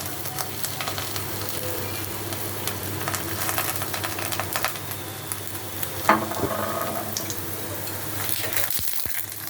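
Oil sizzles steadily in a pan for frying paratha, a continuous close crackle with small pops and a brief scrape or clatter near the end.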